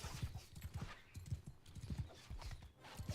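Armored warhorse hooves in the Bannerlord game (Mount and Blade II) clip-clop in a steady, rapid rhythm, close and fairly loud, with no talk.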